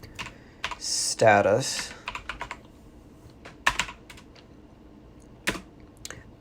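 Someone types a command on a computer keyboard while setting up a Raspberry Pi file server. Close, crisp key clicks come in short irregular bursts, and a voice speaks briefly over them.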